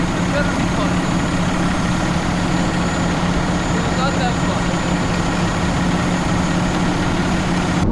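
A cab-over truck engine idles close by in a steady, low rumble that never changes pace.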